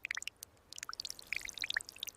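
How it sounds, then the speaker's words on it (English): Water drips from a small bird's soaked feathers onto sand over buried eggs, a quick scatter of faint, close, irregular droplet ticks with no talking. "She stands over the buried eggs and lets it drip."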